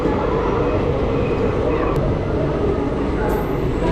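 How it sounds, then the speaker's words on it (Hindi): Pinakini Express, an intercity train between Vijayawada and Chennai, rumbling steadily at a railway station in Tirupati district, with a continuous loud low roar and no pauses. "एक इंटरसिटी ट्रेन है ये।"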